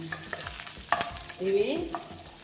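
Chickpeas fry in a pan and get stirred, with a short run of scraping and tossing over a light sizzle and no voices.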